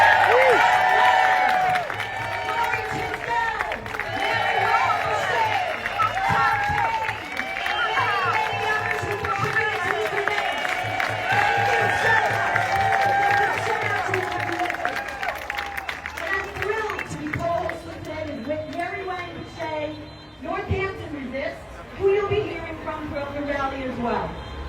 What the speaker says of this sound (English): giving a massive round of applause to Jackie Nyman